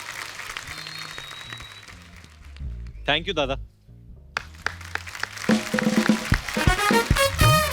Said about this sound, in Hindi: एक बार वरुण और सारा के लिए जोरदार तालियां।